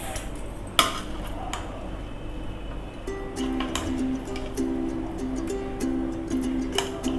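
Cooked chicken biryani is stirred in its pot, producing soft scraping and occasional light clinks of a spoon against metal, fairly quiet and close over a steady low hum and a faint tonal whine.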